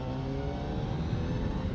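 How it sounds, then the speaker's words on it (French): A Honda CBR 1000 RR R-SP superbike engine with 217 horsepower drones steadily in second gear on the road, a continuous low rumble with wind noise, no talking. "au niveau comportement du moteur, vous allez le voir, je suis en seconde, j'ai 217 chevaux"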